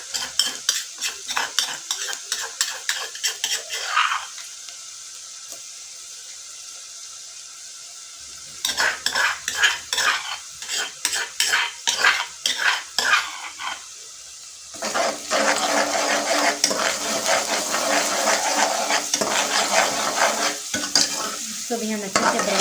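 Browned onion and freshly added garlic fry and sizzle in a pan for beef liver curry, with bursts of rapid stirring and scraping of a utensil against the metal, pausing briefly between rounds before a steady loud sizzle takes over.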